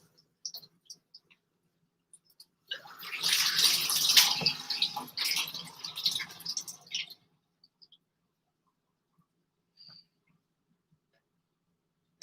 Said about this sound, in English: Wash off my hands again.